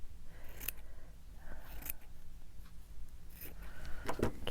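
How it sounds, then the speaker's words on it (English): Scissors cut paper for a prayer journal layout in a few short, crisp snips spread across the clip, with soft handling rustle between them, close and fairly quiet, no talking. "Let's get a pair of scissors that'll cut this."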